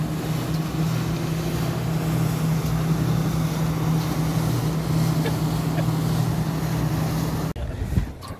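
A steady motorboat engine drones loudly and continuously on Lake Lanier with a low hum and wind buffeting, cutting off abruptly near the end.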